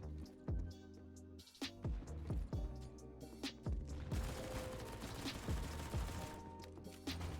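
Rapid gunfire spraying in the CS:GO video game, with a string of sharp, punchy shots in quick bursts, some close and loud, others thinner, over a busy in-game background with no talk.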